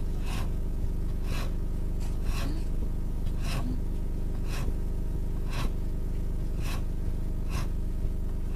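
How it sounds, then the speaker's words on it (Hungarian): A nail file rasping across fingernails in steady, even strokes about once per second, close and distinct over a constant low background hum. "Ül, és a körmét reszeli."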